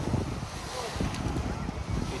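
Light breeze blowing along the Black Sea shore on a warm summer day, a steady soft wind rumble with low gusty buffeting against the microphone and faint surf beneath.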